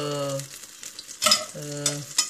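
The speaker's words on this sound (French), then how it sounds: "Mettez à feu doux pour que le beurre ne rouille pas, hein." Butter melting in a pan over low heat gives a soft, steady sizzle that swells in two bursts, with a sustained humming tone running beneath it.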